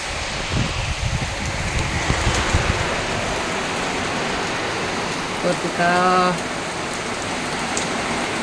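Heavy rain blown by wind pours down in a dense, continuous wash, and one person speaks briefly partway through.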